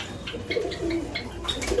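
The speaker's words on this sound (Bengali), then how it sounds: "দেখো গাইস সব পায়রাগুলো ঢুকে গেল এক এক করে ঘরের ভিতরে।" Pigeons coo repeatedly as they file one by one into their coop, soft throaty calls rising and falling close by with faint chirps in the background.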